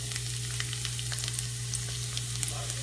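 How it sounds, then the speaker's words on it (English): Garlic sizzling in an already hot pan: a steady, close frying hiss with light crackles and pops running throughout, no voices. "So add your garlic."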